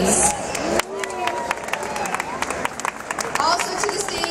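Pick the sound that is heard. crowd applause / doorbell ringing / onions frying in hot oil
crowd applause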